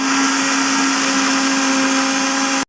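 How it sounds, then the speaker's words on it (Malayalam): A mixer grinder powders roasted wheat in a loud, steady whine with a constant motor tone, running unbroken until it cuts off abruptly at the end. "വറുത്ത് വെച്ചേക്കുന്ന ഈ ഗോതമ്പ് നമുക്ക് നല്ലതുപോലെ ഒന്ന് പൊടിച്ചെടുക്കാം"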